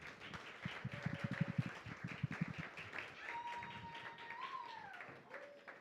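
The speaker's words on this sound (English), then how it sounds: "Another round of applause, please." Audience applause at a Nerd Nite talk about Halloween, with scattered claps early on over a murmuring crowd, then fading beneath room noise and a brief whistle-like tone.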